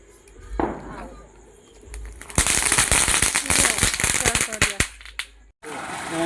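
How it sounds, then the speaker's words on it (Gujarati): Firecrackers set off in a village during a family Diwali celebration, a rapid string of loud close cracks and pops lasting several seconds after an earlier bang, with voices talking around them. "તરતડિયા ફોડે છે"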